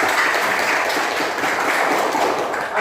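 Students clapping in a classroom, a dense, fairly loud patter of hands from a small group that runs on steadily without a break.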